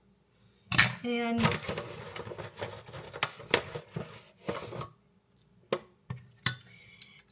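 A teaspoon scoops sugar into a drink and stirs it, giving a series of sharp metallic clinks and scrapes against the cup, close and clear, with a brief word spoken.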